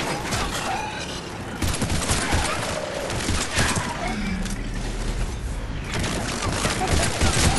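Enemy gunfire in the video game Mass Effect 3, bursts of shots crackling across a dense, busy battle soundscape, steady and fairly loud throughout with no talk.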